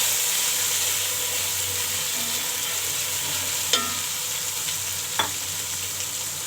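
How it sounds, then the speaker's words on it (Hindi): Ginger garlic paste frying with cut potatoes in a pot for matar pulao, a continuous soft sizzle and hiss with a couple of sharp clinks of stirring, no talk. "अदरक लहसुन डालेंगे। अच्छी तरह इसको भूनेंगे और साथ ही हम ये आलू हमने कटिंग कर लिए हैं ये डाल देंगे"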